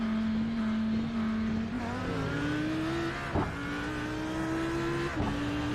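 A GTE race car approaches at Sebring during an iRacing endurance race, a steady engine drone rising gradually in pitch, with brief tire and gear-shift bumps.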